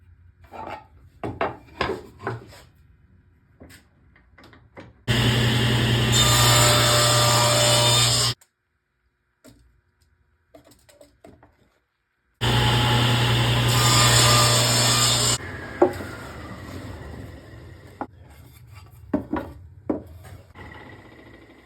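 Power saw cutting a wooden box lid, two sustained loud bursts of a few seconds each separated by quiet, with scattered knocks and handling clatter of wood before and after.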